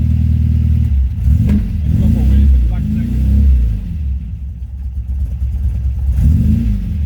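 A 1977 MGB GT engine idles roughly with the carburettor choke pulled out, a steady low rumble running throughout with a brief rise partway through, heard close under talk.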